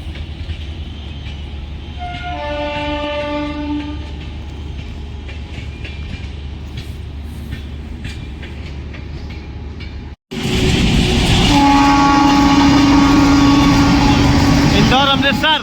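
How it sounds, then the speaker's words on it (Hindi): Punjab Mail Express, running from Ferozepur Cantt to Chhatrapati Shivaji Maharaj Terminus Mumbai, rumbles past at close range with a loud, sustained horn blast, then a second longer one, under station-style announcement voices. "Punjab mail express. Firozpur cantt से चलकर छत्रपति महाराज शिवाजी टर्मिनल को जाने वाली मुंबई"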